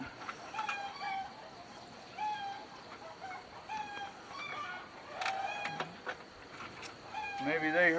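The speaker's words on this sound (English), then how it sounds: "I hear the chickens. Somebody laid an egg." Backyard hens cackling after laying an egg, a run of repeated rising clucks and squawks in uneven bursts at moderate distance, growing louder and more insistent toward the end over low outdoor background noise.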